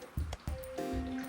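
Vinegar is poured into a container for aging brass, giving a few soft splashes and gurgles followed by a short steady trickle with a faint ringing tone.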